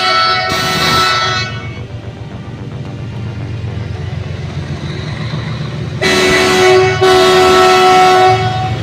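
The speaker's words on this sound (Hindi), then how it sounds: "जब तक रेलगाड़ी क्रॉसिंग से क्रॉस नहीं हो जाती है तब तक हमें इंतजार करना पड़ेगा।" A train rolls past a closed railway level crossing on the road toward Lucknow, its loud rumble and wheel clatter steady and close, with long blasts of the horn near the start and again toward the end.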